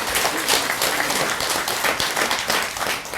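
An audience claps together during a Buddhist dharma talk at Bomunsa temple, a dense, continuous patter of many hands, moderately loud and close, sustained for a few seconds before tapering slightly.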